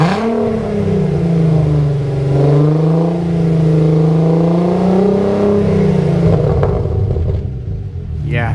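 A Volkswagen Mk4 VR6 engine revs through its smallest exhaust tip, a loud, close, steady droning rumble that swells and eases across several blips before tapering off near the end.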